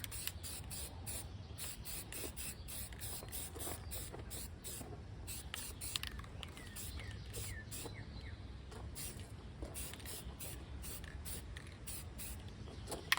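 Rust-Oleum Regal Red spray paint hisses steadily onto a ladybug figure in short repeated bursts, a continuous close aerosol spray with brief pauses between passes.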